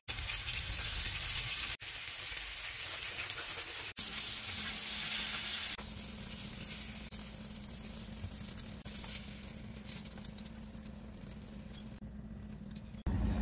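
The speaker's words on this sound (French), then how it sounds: "notre huile est chaude et je vais venir déposer dans l'huile" Pieces of yam for akpessi are lowered into hot oil and fry with a loud, steady, close sizzle that keeps going throughout, with a couple of brief cuts early on.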